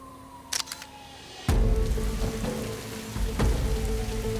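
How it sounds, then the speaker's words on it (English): Heavy rain pours down during an outdoor photo shoot in a storm, a steady wash of falling water with a few sharp camera shutter clicks and a louder surge partway through. "इतनी heavy rain के अंदर भी"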